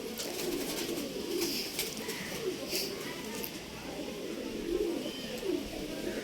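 Male Surmi pigeons coo repeatedly in low murmuring phrases, close and steady throughout, with faint higher chirps and background chatter mixed in.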